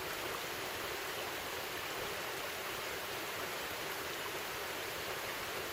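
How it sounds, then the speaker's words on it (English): Steady, full rushing of a mountain creek in a valley flowing continuously, broadband and fairly close, with no voices. "A lot of quality creek crossings along the way."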